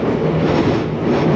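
A London Underground Piccadilly line train rumbles loudly and continuously as it pulls into Russell Square station, heard from inside the carriage with a dense low roar.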